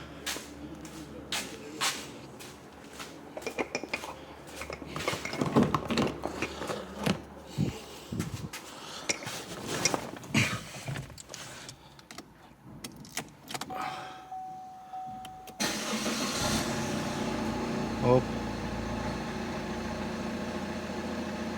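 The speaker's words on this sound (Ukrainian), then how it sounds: "Будемо зараз запускати автомобіль." An Opel Astra J with a 2.0 diesel A20DTH engine and newly replaced injectors on the second and third cylinders. After scattered clicks and handling noises the engine cranks and fires, then settles into a steady, even idle.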